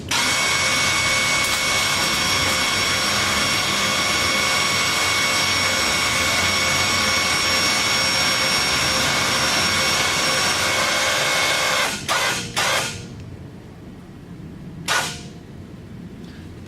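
A KFI 5,000 lb electric winch runs with a loud, steady motor whir and buzz for about twelve seconds. It then cuts off with a few sharp clunks and stops, and after a pause one more brief burst follows.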